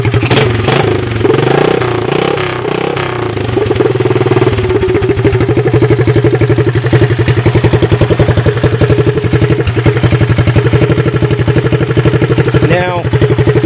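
Honda ATC three-wheeler engine running with an aftermarket CDI box, a loud close steady rapid putter that settles into an even idle, with a brief voice underneath.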